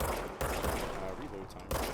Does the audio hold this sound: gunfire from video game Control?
yes